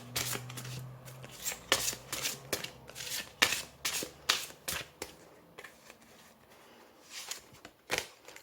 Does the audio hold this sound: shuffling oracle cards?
yes